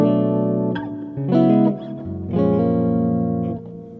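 An electric guitar picked with a standard flat pick, heard as three separate plucked chords or notes with bright attacks and ringing sustain, played alone and up close.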